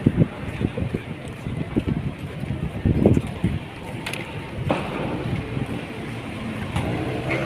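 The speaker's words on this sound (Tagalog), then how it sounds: "lakas ng hangin dito" Strong wind buffets the microphone with a steady roar, with gusty thumps and rustling early on and distant background activity underneath.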